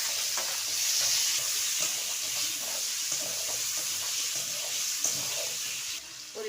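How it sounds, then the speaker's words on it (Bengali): Cut potatoes frying in oil in a wok, a continuous crackling sizzle with intermittent stirring scrapes and clatter, close and steady with no speech. "এবার কেটে রাখা আলুগুলো ভেজে নেব।"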